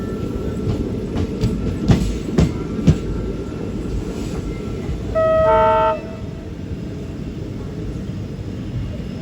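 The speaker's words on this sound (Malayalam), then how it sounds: "ട്രെയിൻ എങ്ങനെ മംഗളൂരു ജംഗ്ഷൻ റെയിൽവേ സ്റ്റേഷൻ്റെ 3-ാം നമ്പർ പ്ലാറ്റ്ഫോമിലേക്ക് എത്തിക്കൊണ്ടിരിക്കുകയാണ്" A train pulls slowly into platform 3 at Mangaluru Junction railway station, a steady rumble with a few sharp clanks and a brief horn-like tone partway through.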